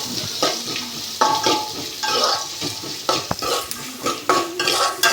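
Chopped onions and green chilies frying in a pan for a string hopper pulao, heard as a close, steady sizzle with a spoon stirring and scraping against the pan, with no talking.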